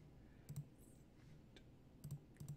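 Soft keyboard typing in short bursts of quiet clicks, several taps near the start and a few more toward the end, with no voices.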